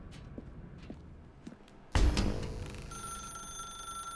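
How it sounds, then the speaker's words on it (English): A telephone in The Stanley Parable starts with a loud burst, then rings with a steady, bright electronic tone after faint scattered footsteps. "Now pick up the phone."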